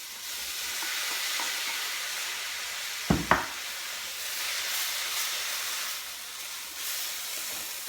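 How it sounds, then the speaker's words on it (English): Beef strips sizzle in a hot pan for sticky ginger beef noodles, a soft steady hiss of frying with a couple of brief clatters of utensils partway through. "I'm simply going to add my beef back in there."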